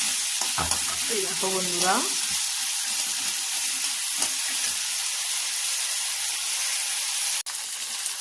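Spices frying in a hot pan give a steady, loud sizzling hiss throughout. A voice speaks briefly near the start, and a sharp click comes near the end.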